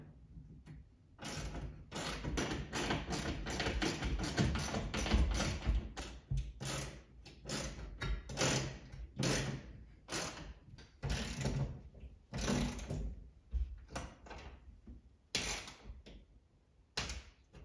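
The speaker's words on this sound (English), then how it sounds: "Now I need to use a socket." A socket wrench tightens the bolts of a flat screen TV wall mount in a series of close, crisp ratcheting bursts, each a quick run of clicks separated by short pauses.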